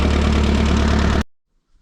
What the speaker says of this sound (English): I can't do nothing without my tractor.